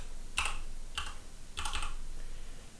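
Typing on a computer keyboard: three short bursts of close, crisp key clicks separated by brief pauses, over a quiet background hiss.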